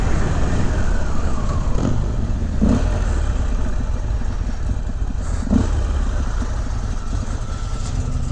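A Harley-Davidson XR1200 V-twin motorcycle engine runs steadily and loudly throughout, a continuous low rumble with a few brief throttle swells and no talk over it.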